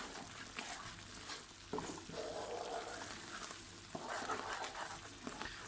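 Cake batter cooking gently in a pan and being stirred with a wooden spoon, heard as a steady low sizzle with occasional soft scraping knocks, fairly quiet and continuous throughout.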